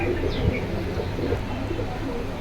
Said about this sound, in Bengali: এই যে এখানে সিঙ্গেল সিঙ্গেল কবুতর আছে আপনারা দেখতে পাচ্ছেন